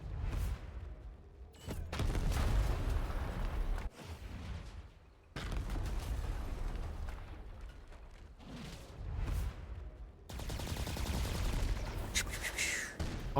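Gunfire in a turn-based strategy game about super soldiers fighting aliens, several loud bursts of rapid shots separated by brief pauses and sharp cutoffs.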